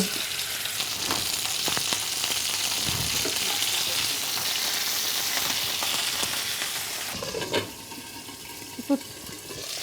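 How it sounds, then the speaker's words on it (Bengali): Chicken pieces fry in hot spattering oil in a home kitchen, a steady loud sizzle with crackles throughout and a few louder pops near the end. "তেল ছিটছে তো আমি এই জন্য ঢেকে দিলাম"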